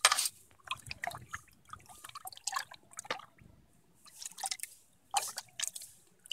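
Water being poured and dribbled into a homemade plant fertiliser mix, heard as irregular splashy trickles and drips in short bursts, close and fairly loud without talk.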